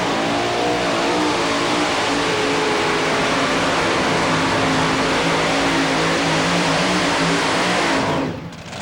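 A 4WD diesel truck at a tractor-pulling competition roars continuously at full throttle throughout a pulling run, loud and close, the engine note rising steadily before the sound cuts off at the very end.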